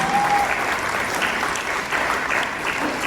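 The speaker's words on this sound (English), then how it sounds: "Give them a big applause." Applause from an audience at a Douglas County government meeting, a steady dense patter of clapping that holds throughout at moderate loudness.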